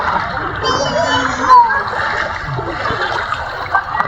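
Sea water splashing and sloshing close by at a crowded beach in Bantayan, Cordova, steady through the clip, with people talking over it.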